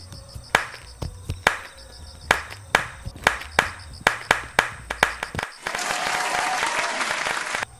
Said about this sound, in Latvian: Vēl jūs varat trenēt aplausus, un tas notiek šādi.